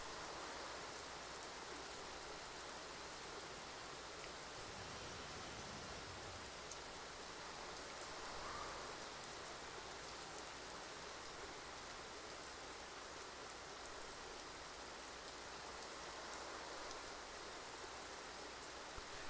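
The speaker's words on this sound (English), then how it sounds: "I'm about to go into the rain clouds." Steady rain in the X-Plane 12 flight simulator hisses as a dense, even wash of drops on a surface, continuous and unbroken for the whole stretch, fairly faint with no voices.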